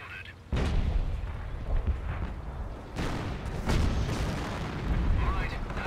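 Heavy booms and rumbling blasts hit in succession in the game Company of Heroes, a dense artillery barrage of high-explosive shells with continuous low rumble and occasional voices underneath.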